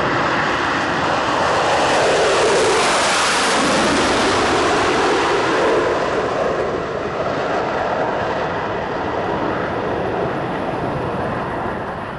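Concorde airliner taking off from runway 31 left at New York, a loud sustained jet roar with a sweeping tone that rises and slowly fades as it climbs away, no voices.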